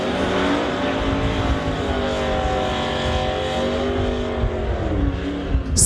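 A 1968 Dodge drag car with a 511 engine roars at full throttle down a drag strip, loud and continuous, with a steady rising engine drone and a brief burst near the end.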